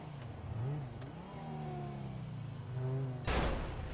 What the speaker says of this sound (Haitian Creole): Machine sa sonne bien